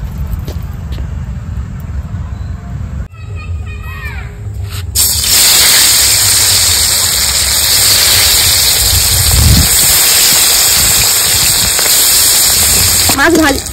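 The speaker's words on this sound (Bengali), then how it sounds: "এবার আমি মাছটা ভেজে নেব।" Catla fish pieces coated in salt and turmeric drop into hot mustard oil in an iron wok, bursting into a loud, steady, close sizzle that hisses on without a break.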